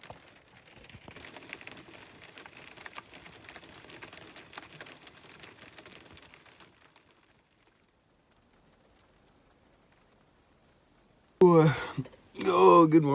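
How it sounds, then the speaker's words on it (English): Soft, steady rain patters on the roof of a truck camper for several seconds, then fades to near silence before a voice begins speaking close by. "listen to the rain."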